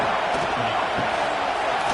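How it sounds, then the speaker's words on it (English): Steady, full-throated roar of a stadium crowd in a college football video game, with Michigan playing at Georgia. The dense, continuous noise sits close and loud with no pauses. "This crowd, full throat, spreading the eardrums and letting them know it's going to be a long day."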